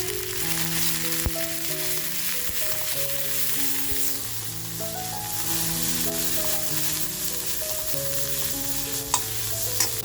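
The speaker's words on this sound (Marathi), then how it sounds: "मसाला जो करून घेतला आहे ते तेलामध्ये टाकून घेते" Roasted spice masala sizzles in hot oil while being stirred for a butter-garlic stuffed kharda crab dish. The frying hiss is constant and close, with a steady tune playing alongside it throughout.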